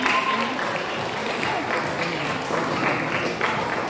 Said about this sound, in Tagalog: palakpakan natin ang mga mami at daddy, lolo at lola na tumulong sa inyo